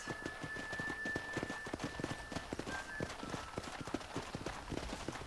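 Steady clip-clop of horse hooves trotting along railway tracks in Red Dead Redemption, a quick, even rhythm, with a faint tonal whistle or squeal in the background.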